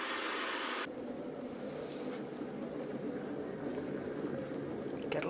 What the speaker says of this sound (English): I do at times forget how loud this kettle is